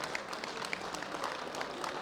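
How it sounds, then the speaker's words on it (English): Applause for bench press lifters at the 2016 World Bench Press Championships in Denmark, a continuous, moderately faint patter of many hands from an audience. "Give me one more round of applause for all of our lifters at this World Bench Press competition."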